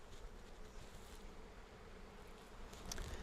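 Honeybees swarm around an open hive as frames are lifted out, a dense steady buzzing drone up close and filling the whole clip, with no one speaking.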